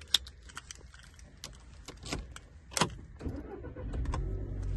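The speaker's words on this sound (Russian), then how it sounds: "Ну, для начала я предлагаю завести наш автомобиль." Clicks and jangling keys come first, then a 2015 Volkswagen Jetta engine turns over and settles into a low running rumble that continues to the end.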